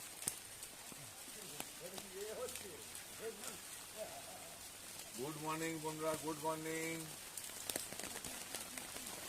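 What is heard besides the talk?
heavy rain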